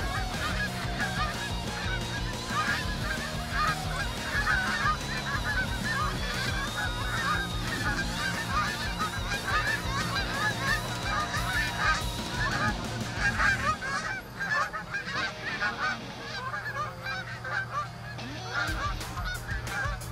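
A flock of geese honks loudly while circling over a hunting spread, many overlapping calls in a dense, continuous chorus that thins out toward the end.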